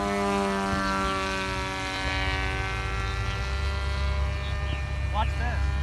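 A homemade model airplane built from poster board drones steadily with its propeller, giving a sustained buzzing hum at a fairly even loudness. The pitch shifts slightly as it flies.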